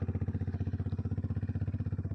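A motorbike engine on twisty roads on a sunny day, a close, steady rapid pulsing throb that stays even from start to finish.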